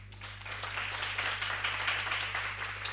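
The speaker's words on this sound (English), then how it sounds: "Can we please have a round of applause?" An audience at an occupational therapy research day gives steady, sustained applause, a dense wash of many hands clapping evenly for about three seconds beneath a constant low electrical hum.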